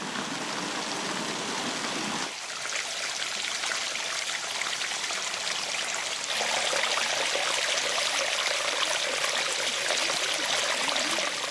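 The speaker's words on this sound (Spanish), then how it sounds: "uno está presenciando cómo corre el agua, la está oyendo" Water flowing down the stone channels of the water staircase at the Alhambra in Granada. A steady, close rushing trickle continues throughout and swells a little louder partway through, with no voices.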